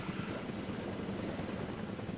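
Two helicopters arrive in Jurassic World Evolution 2 with a steady, moderately quiet rotor drone and a rumbling wash of blades that holds even throughout without pause.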